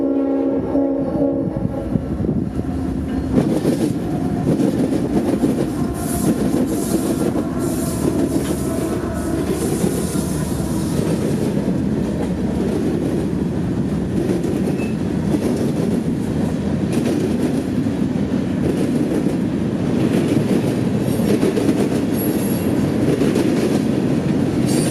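Norfolk Southern freight train M605 passes at Oglethorpe, Georgia, in afternoon light, horn sounding as the locomotives approach, then a loud, sustained roar of cars with clickety-clack over rail joints and squealing wheels, close and unbroken.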